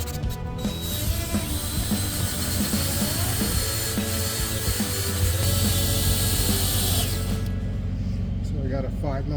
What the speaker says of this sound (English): we got to drill out our plugs